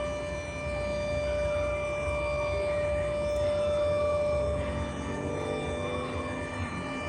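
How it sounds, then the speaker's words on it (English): A siren wails steadily in the distance over low background hum, a long sustained tone holding for several seconds. "well, there goes a siren."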